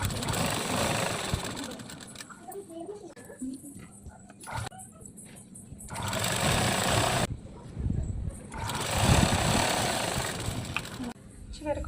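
Sewing machine stitching a double-folded dress hem, its motor running in steady bursts with short pauses between runs.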